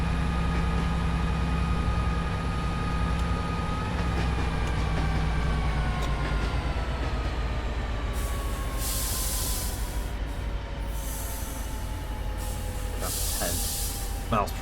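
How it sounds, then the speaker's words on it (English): Inside the cab of a Metrolink F59PHR locomotive in Train Sim World 5, a steady engine drone and rail rumble continue throughout while an AI tram passes overhead with a sliding, falling tone. Hissing bursts come near the end. "Just an AI tram going over the top."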